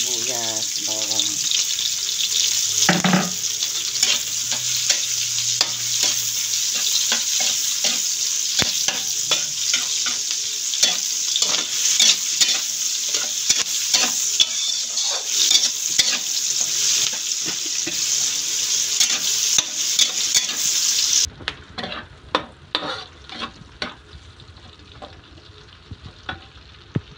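Garlic sizzles and crackles steadily in a hot pan for Filipino adobong sitaw, with a utensil scraping and stirring at intervals, and a few faint clanks after the frying sound cuts off near the end.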